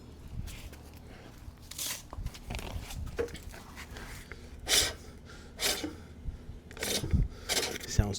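A Toro Greensmaster Flex 21 reel rubs against its bedknife during backlapping, a quiet rasping scrape that repeats in irregular strokes over a low mechanical hum, with no one speaking.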